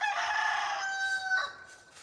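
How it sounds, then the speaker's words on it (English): Rooster crowing once, a clear cock-a-doodle-doo at moderate distance, with a long drawn-out call that breaks off into a short final note. "they got a fit for crowing all of a sudden, didn't they?"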